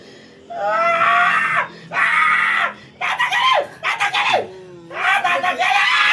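A person screams four times in long, loud, strained wails, close up, with brief breaks between them and a shaky, broken cry in the middle.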